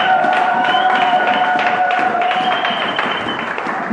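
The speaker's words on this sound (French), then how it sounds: "on acclame la parole du Seigneur" A church congregation applauds and cheers loudly and continuously, dense clapping and voices filling the space evenly throughout.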